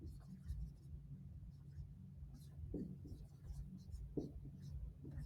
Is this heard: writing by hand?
yes